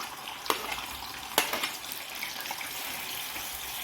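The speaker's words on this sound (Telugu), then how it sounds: "ఆయిల్ వేడెక్కింది. ఇప్పుడు ఈ ఆనియన్ పేస్ట్ వేసుకుందాము." Onion paste drops into hot oil for a brinjal curry and fries with a soft, steady hiss, with two sharp splattering bursts near the start before the sizzle settles.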